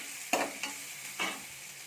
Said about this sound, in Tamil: வெங்காயம் சேர்த்து நல்லா வதக்கிக்கோங்க